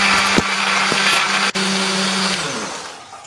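An electric blender grinds shallots, garlic, candlenut and ginger with a little water, a loud steady whirring roar with a few knocks, winding down toward the end.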